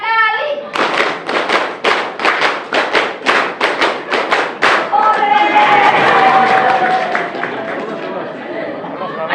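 A group in a training session claps a rhythmic five-beat pattern, sharp, loud and close, in repeated bursts, then breaks into loose clapping and overlapping chatter that trails off to quieter talk.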